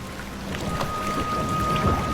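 Heavy rain with thunder as a storytelling sound effect, a dense steady downpour hiss with low rumbling underneath, continuous and fairly loud.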